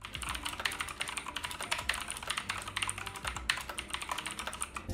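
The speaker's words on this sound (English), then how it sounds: "And here's a quick typing test." Fast typing on a Redragon K5 mechanical keyboard with clicky blue switches: a dense, continuous stream of sharp clacks at close range, irregular in rhythm with a few heavier key strikes, no voices.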